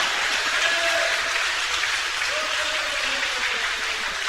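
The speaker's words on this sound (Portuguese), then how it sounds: "Aplauda bem forte a palavra de Deus nessa tarde." A Brazilian church congregation claps in steady, dense applause that fills the room, with faint voices mixed into the wash of hand claps.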